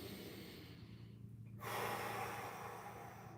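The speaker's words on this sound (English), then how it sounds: "And all we're going to do is start breathing through the belly." Deep belly breathing during a relaxation exercise: a long airy exhale that fades to quiet, then a full, slightly louder inhale, close and without speech.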